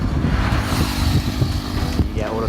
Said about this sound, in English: That's the classic bus